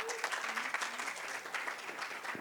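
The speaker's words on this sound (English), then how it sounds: "Let's welcome Ms. Prerna Langa with a big round of applause." An audience applauds to welcome a speaker at a founder's birthday celebration event, continuous lively clapping with light crowd murmur, moderately loud and sustained.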